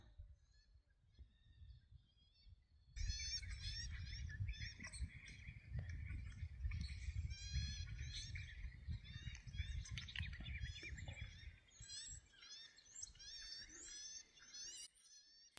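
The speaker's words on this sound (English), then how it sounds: "Those birds are gathering up here." Flock of birds chirping and twittering over a farm field of damp hay swaths, a busy overlapping chorus of calls starting suddenly after a quiet moment, faint and distant over low wind rumble.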